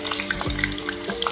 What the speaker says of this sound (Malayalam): ചോറിന് കഴിക്കാനുള്ള ഫിഷ് വറുക്കുന്നുണ്ട് കേട്ടോ.